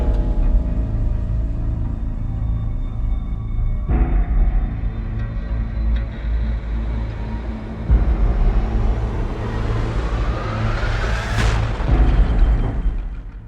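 Cinematic booms and tonal organic hits from the Heavyocity Gravity 2 sample library, with deep distorted impacts landing every few seconds over a rumbling bed and a rising swell near the end.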